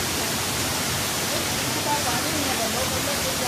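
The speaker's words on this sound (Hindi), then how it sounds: "पानी गिरने की झरने में से बहुत तेज आवाज आ रही थी" Heavy, steady roar of rushing, falling water fills the whole clip, loud and close, right beside a waterfall at Tilkeshwar Mahadev temple near Udaipur, India.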